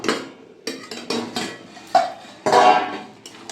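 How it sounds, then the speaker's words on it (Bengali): Metal cooking-pot lid lifted off a pot of bottle gourd (lau) vegetarian curry, a few clanks and clinks of metal on metal in quick separate bursts, close and moderately loud with no talk. "ঢাকাটা খুলে নেব।"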